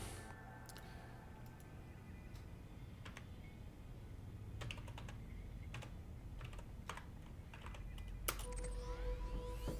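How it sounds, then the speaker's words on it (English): Keys clatter steadily on a computer keyboard in bursts of fast typing, close and clear over a low constant hum, with no talking. "And so the miracle of typing."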